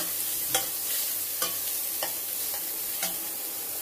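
Chopped garlic cloves frying in a pan for a spinach dish: a soft, steady sizzle with a few sharp clicks of a utensil stirring against the pan, fairly quiet and close, with no voices.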